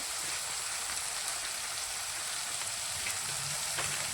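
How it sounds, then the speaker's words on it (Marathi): Spices sizzling in a pan for pulao: a soft, continuous crackling hiss with scattered pops, faint and steady throughout. "तर पाहू शकता मसाला चांगला फ्राय झालेला आहे।"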